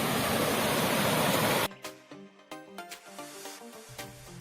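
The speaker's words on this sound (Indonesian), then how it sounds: "Aliran sungai kecil ini adalah sumber air pertama yang kami temui di trek ini." A small, clear mountain stream on a hiking trail rushes as a loud, steady broadband wash for under two seconds, then gives way to quieter clicks and knocks.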